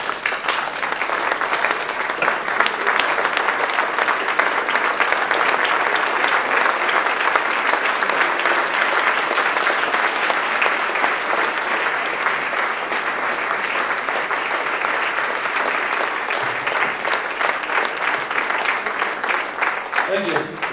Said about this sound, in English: Let's all stand and applaud them